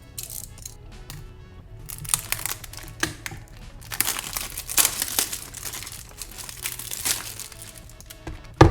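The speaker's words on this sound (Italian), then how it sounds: "Ma adesso apriamo il pacchetto." Crinkling and crumpling of packaging as a parcel of Maimeri Puro oil paint tubes is opened, with irregular rustles and tearing bursts close up, growing busier midway and ending in a sharp knock.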